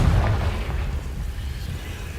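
A Confringo blasting spell going off in a wizarding video game: a deep, rumbling explosion burst at the start that fades into a lingering low roar.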